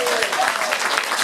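Brief burst of audience applause at a township Democratic organization fall fundraiser, dense steady clapping from a crowd at close range.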